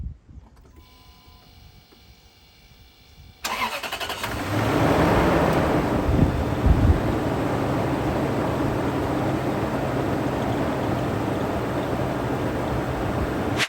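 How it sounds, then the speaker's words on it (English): A Toyota Land Cruiser 4.7L V8 engine cranks and catches after a quiet start, rises to a brief rev, then settles into a steady, close, continuous idle rumble. "So I'm just going to get the vehicle started for you guys first, so you can get an appreciation for how good this V8 sounds."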